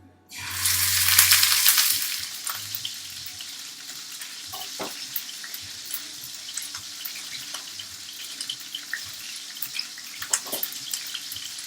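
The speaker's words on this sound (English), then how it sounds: "So we're going to sear it, okay?" Beef searing for beef wellington in a hot pan: a loud burst of broadband sizzle when the meat goes in, settling into a steady lower crackle with scattered pops and faint clinks, no talking.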